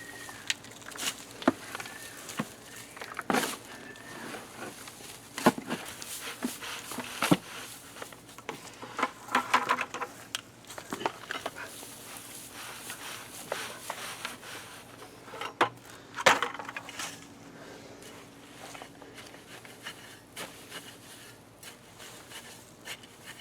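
Compost is turned over in a garden compost bin, giving scattered soft rustles, scrapes and knocks at an irregular pace, fairly quiet and close, with no voices.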